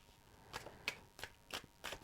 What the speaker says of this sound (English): So I feel like I want to shuffle those again.